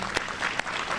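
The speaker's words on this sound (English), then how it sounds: "applause" Brief audience applause at a Chicago event with the mayor promoting youth programs, a short, steady patter of many hands clapping with a couple of sharper claps standing out.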